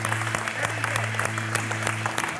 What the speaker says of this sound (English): Yeah, we got a lot of applause.